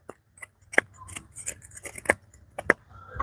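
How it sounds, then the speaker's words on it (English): A bushcraft camp knife carves into wood in quick, crisp scraping strokes, about a dozen short bursts close to the ear with no talk. "just the way this thing basically carves into wood"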